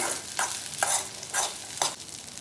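A spoon stirs sabudana usal mixed with crushed peanut powder in a pan, giving five or six evenly spaced scraping strokes with a soft sizzle beneath and no talking.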